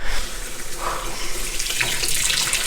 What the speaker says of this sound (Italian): laviamo la mammella con un po' di acqua tiepida